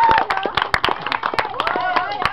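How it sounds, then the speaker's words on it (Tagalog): A lively group claps for the red team in a short burst of close, sharp hand claps, with shouting and excited voices mixed throughout. "Palakpakan natin yung red team, guys."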